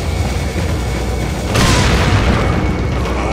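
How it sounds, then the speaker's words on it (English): A loud explosion in Resident Evil 4, a sudden broad boom partway through that rolls out into a sustained rumble over constant game background noise. "I heard, like, two guys exploding"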